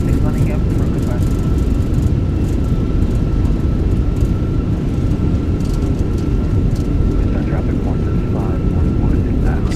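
Fenix A320 airliner in Microsoft Flight Simulator 2024 rolling out after landing with reverse thrust, a loud steady roar of engine noise that continues unbroken throughout.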